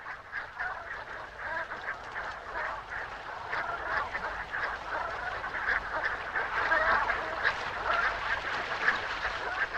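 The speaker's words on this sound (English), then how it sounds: "thousands of waterfowl, such as these Brant geese, stop over at sheltered coastal areas of southern Alaska" Brant geese stopping over at a sheltered coastal area of southern Alaska, a dense flock giving continuous overlapping honks and gabbling calls, steady and moderately loud throughout.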